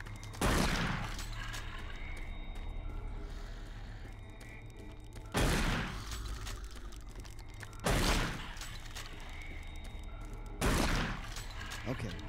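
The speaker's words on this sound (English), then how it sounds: "The Doom shotgun is its own beast." Doom 3 shotgun blasts in gameplay, four loud booming shots at irregular intervals, each with a sharp crack and decaying tail over a steady low droning background.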